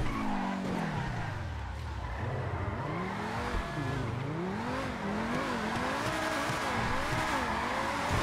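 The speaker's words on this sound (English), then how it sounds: "Ah, do donuts in a fucking supercar." A supercar in a snowy driving game spins donuts, its tyres squealing in long wavering skids over a steady revving engine, loud and continuous.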